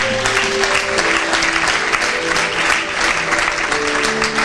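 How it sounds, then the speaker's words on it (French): An audience at a church service applauding the choir, continuous loud clapping from many hands filling the hall, with faint voices mixed in. "Et maintenant on acclame pour la chorale."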